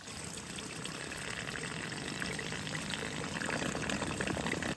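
A water pipe inlet sitting barely submerged in a low-flowing creek, sucking air with a continuous gurgling, rushing wash of water and air, close and steady.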